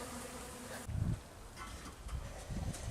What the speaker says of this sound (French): les abeilles volent bien